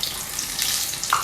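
Pakoras fry in hot oil, giving a steady close sizzle with bubbling crackle and a brief brighter spurt near the end, alone without talk.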